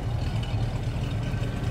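A 1969 Ford Torino GT fastback's 351 V8 idles with a steady, low exhaust rumble, close by and continuous with no talking.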